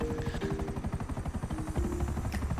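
Helicopter rotor chopping steadily in the GTA video game during a heist, a continuous rhythmic thumping that stays loud throughout with no talk over it.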